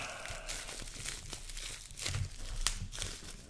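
Plastic and paper packaging from a sports card mail package crinkles and rustles close up in irregular bursts, with sharper crackles and a brief tearing sound near the end.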